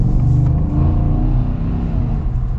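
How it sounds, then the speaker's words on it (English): A 2021 Ford F-150 with a 5.0 V8 engine revs up, giving a loud, close, deep rumble. The sustained growl rises and falls slightly with no one talking. "this engine feels so strong and it sounds so good"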